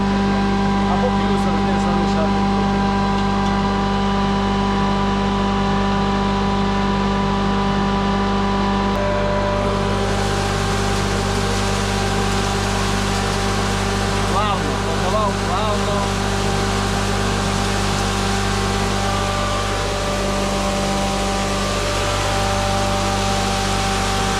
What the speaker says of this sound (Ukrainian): коли двигун йде в навантаження